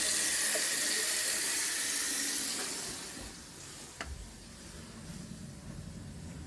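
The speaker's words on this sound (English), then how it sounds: "Turning the hot water on." A hot water tap runs through an Eccotemp 45 natural gas tankless water heater, a loud steady hiss of flowing water that fades after a few seconds into a quieter trickle with a small knock.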